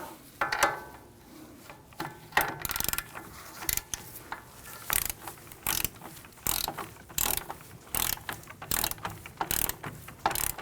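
A ratchet clicks in quick uneven bursts close by, tightening front strut mount bolts on a Volvo S60, rapid metallic ticks with short pauses between strokes.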